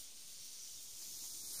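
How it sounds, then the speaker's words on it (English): Plantain sizzles in a pan at a campsite in a field in Belgium, a soft, steady frying hiss heard close up and alone for a brief moment. "setting up camp and frying plantain"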